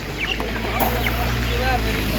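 Purebred chickens cluck steadily at a busy animal market, several hens calling close by over a constant background murmur of the market crowd.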